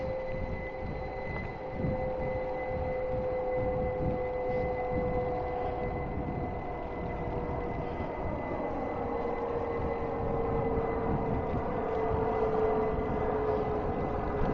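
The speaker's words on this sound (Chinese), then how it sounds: "听到天上有飞机轰鸣声" A plane roars overhead along the Fraser River greenway in Burnaby, a steady broad rumble with a faint tonal whine that slowly swells and holds for the whole stretch, heard outdoors from a riverside path.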